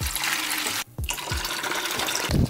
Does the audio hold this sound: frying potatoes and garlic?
no